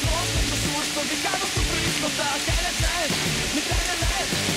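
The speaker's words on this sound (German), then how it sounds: "Wir sind jetzt in den Wald reingegangen, weil es so pisst." Heavy rain pours down in a forest during a horseback trek, a dense, continuous hiss of water drumming on leaves and ground, loud and close throughout.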